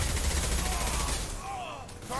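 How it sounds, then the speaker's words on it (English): Gunfire in the video game Mass Effect 2, a loud burst of shots at the start fading into ringing, rumbling game sound as a voice begins speaking. "Jesus, what gun did you shoot him with?"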